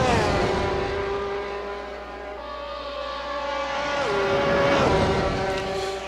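Screaming high-revving Corvette race car engines at Monza, a sustained loud whine that holds steady and then drops in pitch as an upshift or passing car shifts the tone, with no talk.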